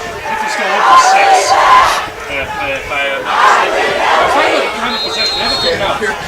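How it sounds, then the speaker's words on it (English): Crowd noise rises at a September 2017 high school football game between Fredonia and Spring-Griffith, with a broad roar and shouts from the stands under a commentator's voice. "the crowd is finally into the game a little bit"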